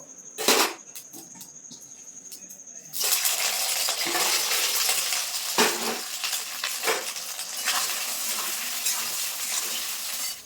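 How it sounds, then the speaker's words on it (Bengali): Soybean chunks hit hot oil in a wok, starting as a few clinks and a quiet hiss, then a loud, steady broadband sizzle of frying with occasional pops and stirring scrapes, close up and with no talk. "তেলটা কিন্তু গরম হয়ে গেছে এবার সোয়াবিনগুলো ভেজে নেব"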